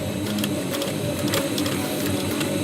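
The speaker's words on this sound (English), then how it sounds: "now sew over it" A sewing machine stitches a homemade surgical mask with a continuous, steady mechanical whir and fast needle pulses, close and loud throughout, no speech.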